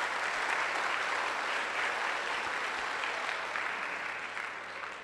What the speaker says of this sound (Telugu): మీకోసారి గ్రేట్ క్లాప్స్.